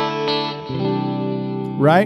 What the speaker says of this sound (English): All of that delay and reverb you're hearing is from the aux.